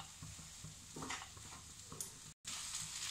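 Semolina upma with sugar stirred in a pan, soft scraping and light sizzling at close range, quiet and fairly steady with a brief dropout near the end.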